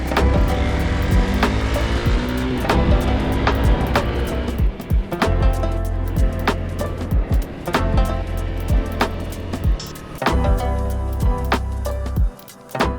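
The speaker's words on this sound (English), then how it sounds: "now Riley's going to do a cool wheelie" A Honda CRF300L dirt bike revs hard through a wheelie, its loud engine roaring close with sharp throttle bursts and gear changes rising and falling, no voices over it.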